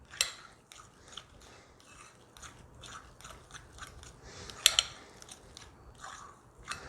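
Keto cheesecake base ingredients being mixed in a bowl make faint, irregular crunchy scraping and stirring strokes, with a couple of sharper clicks and no one speaking.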